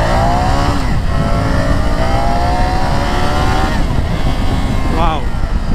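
A Triumph Tiger 850 Sport motorcycle accelerates hard on a city road, its engine note rising in pitch through the gears with loud, close revving and a brief shift before climbing again.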